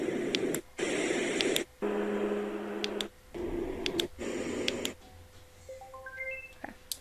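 A portable sound machine plays white noise in several steady hissing bursts split by short pauses, close and fairly quiet, followed by a rising run of electronic beeps.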